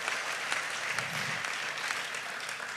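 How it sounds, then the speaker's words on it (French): Audience applauding at a political meeting, a dense, steady wash of clapping that fills the whole stretch without pause. "Et ça applaudit."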